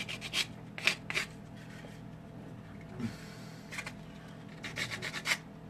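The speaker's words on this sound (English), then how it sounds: "So I'm going to just sand it off a little bit." Sanding a clay Allosaurus sculpture: several short, dry rubbing strokes come in bursts, some quick pairs and some longer scrapes, close and fairly quiet, with pauses between them and no talking.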